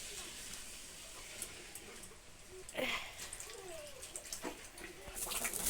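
Water poured into a pan of fried spice paste for a Bengali fish curry, giving a soft, steady splashing hiss that grows louder toward the end, with faint background noise.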